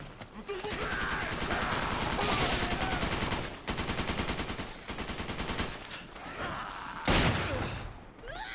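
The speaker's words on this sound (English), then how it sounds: "I can hear gunfire." Gunfire in the video game Resident Evil 5 Versus mode, loud rapid bursts of automatic fire broken by short pauses and a few single shots, with faint game voices mixed in.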